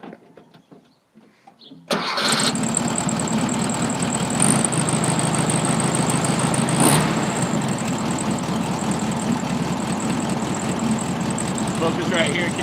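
A 1967 car engine with leaking fuel lines cranks and catches, then settles into a loud steady idle that runs close to the microphone for about ten seconds.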